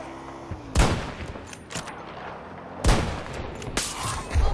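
Sniper rifle shots in Battlefield 2042, two loud sharp cracks about two seconds apart with a third starting at the end, over a steady bed of battlefield ambience.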